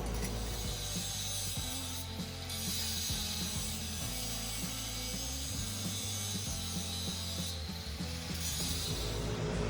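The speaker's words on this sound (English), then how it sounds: "now he's loosening the shock" Ratchet clicking steadily on a Jeep's shock absorber bolts during a suspension lift install: rapid, close metallic ratcheting in repeated strokes, loud throughout with no talking.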